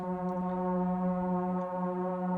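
A Befaco Oneiroi modular synthesizer plays a steady ambient drone with stacked, sustained tones that pulse gently, loud and continuous throughout, with no voices.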